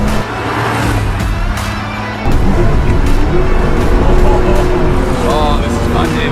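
A car driven by Jay Leno and David Letterman hums and rumbles steadily, with a low engine drone that steps up in level partway through as it pulls along.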